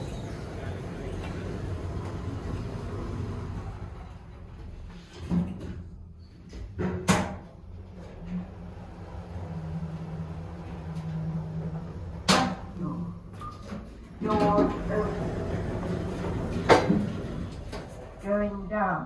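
KONE MonoSpace lift at a Sports Direct store in Kings Lynn: doors slide and thud, then a low hum as the car travels up, with sharp mechanical clicks and bumps, and an automated voice making announcements throughout.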